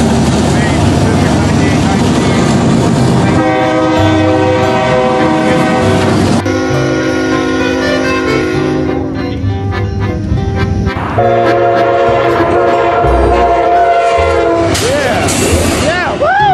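A Kansas City Southern (KCS) freight locomotive rolls past at close range, sounding several long, loud horn blasts over a continuous rumble of wheels and cars.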